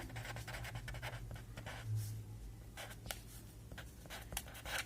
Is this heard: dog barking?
no